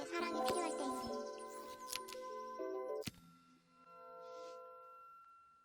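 Doorbell in the video game Assemble with Care, chiming tones ringing over soft layered game music, with a brief higher shimmer as the sound fades into quiet ambience.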